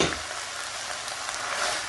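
Quartered, de-seeded tomatoes fry in a pan for lamb karahi, a dense close sizzle with spatula stirring scrapes, steady throughout and no voice.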